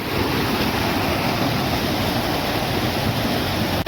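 Loud, continuous rush of a waterfall between two plantations in Uttara Kannada, a dense steady roar heard up close with no voices over it.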